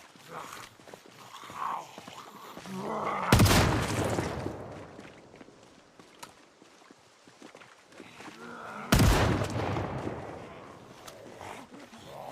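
Two loud, sharp shotgun blasts in Project Zomboid, roughly five and a half seconds apart, each followed by a decaying roar, with cattle mooing and quiet background sounds in between.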